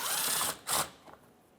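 Power tool backing out a 10mm bolt on a 2014-2018 Mazda 3 during front lower control arm work, two short close whirring bursts followed by a faint click.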